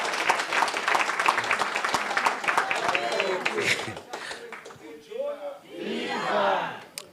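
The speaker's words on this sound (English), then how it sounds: "Big round of applause." A conference audience at a teachers' union provincial general council applauds and cheers a former official, loud dense clapping with shouts that thins out toward the end.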